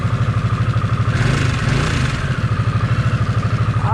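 Harley-Davidson 975 Sportster Nightster running close up with a steady, throbbing low pulse, its tone rising briefly as the revs build before settling back to an even, rhythmic beat.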